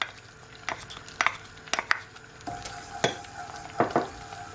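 Hot pepper sauce being stirred into melted butter in a pan, with a soft sizzle under repeated scraping and clinking strokes of a utensil against the pan.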